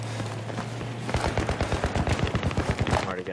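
Rapid automatic gunfire in an online shooter match with tanks, a loud close stream of evenly spaced shots that starts about a second in and continues to the end, with a low steady hum underneath.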